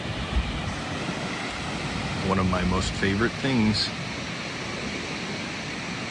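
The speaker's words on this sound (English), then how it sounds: "There's the ocean." Ocean surf washes steadily at Venice Beach, California, on a cold day, a constant broad roar of breaking waves with a person speaking briefly over it partway through.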